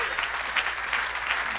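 A church congregation at an evangelical service gives a loud acclamation, a steady roar of clapping and cheering with rhythmic swells, sustained throughout.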